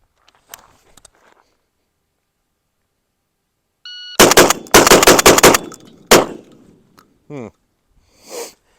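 A Mossberg 940 Pro semi-automatic shotgun fires a rapid string of loud, sharp blasts in quick succession, followed by a couple of later shots and faint handling noises, with no talk.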